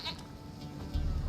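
A goat bleats once, short and fairly faint, in The Witcher 3 game, over a low rumbling background.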